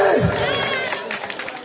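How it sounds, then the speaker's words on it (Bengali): A crowd gathered at a Christmas celebration breaks into a loud, busy burst of clapping and cheering right after a poem recitation, voices shouting over the applause from nearby. "ভালো যদি ভালোই লেগে থাকে তাহলে জুড়ে একটা করতালি হবে"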